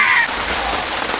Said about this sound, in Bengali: আমরা কালকের মতো আবার বৃষ্টি হচ্ছে